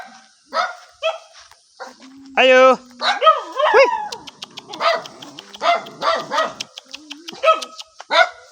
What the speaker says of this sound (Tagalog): May aso pa naman.